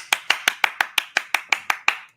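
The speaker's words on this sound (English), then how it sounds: "I will give you a round of applause." Eleven sharp, evenly spaced hand claps, crisp and close, a slow deliberate round of applause from a single person with no talking over it.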